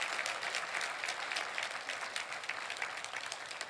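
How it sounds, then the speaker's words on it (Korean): A church audience claps together in sustained applause, a dense, even patter of many hands heard from a moderate distance for several seconds without a break. "한번 박수 한번 해주십시오."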